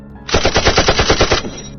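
Rapid burst of about ten gunshots, a loud machine-gun style sound effect in a Spanish Loquendo zombie story, sharp evenly spaced cracks lasting about a second, no talk.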